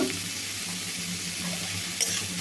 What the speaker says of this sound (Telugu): ఒక హాఫ్ స్పూన్ వరకు అయితే ఆయిల్ వేసుకుందాము ఉల్లిపాయలు వేయించుకోవడానికి